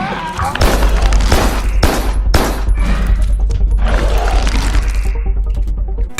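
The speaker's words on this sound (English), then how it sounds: "Every shot coming from a gun has power behind it, and you can hear every bullet when it hits the floor" Dense, loud gunfire from enemies in the action game Carrion, a near-continuous barrage of heavy shots and booming impacts with sharp bursts and crashes layered over a deep rumbling bed.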